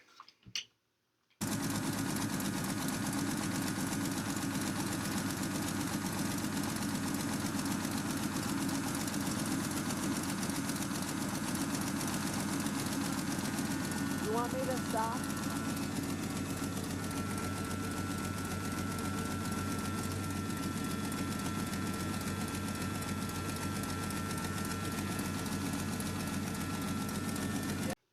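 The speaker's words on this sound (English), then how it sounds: "But once the truck warmed up, it seemed to be idling fine on its own." A warmed-up REO M35 military truck engine idles steadily with a low, rough rumble and rhythmic knocking for a long stretch; a voice speaks briefly at the start.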